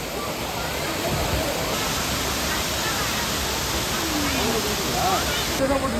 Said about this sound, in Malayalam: കാടിന് നടുക്കിലായിട്ട് സ്ഥിതി ചെയ്യുന്ന ഒരു അടിപൊളി വെള്ളച്ചാട്ടമാണിത്.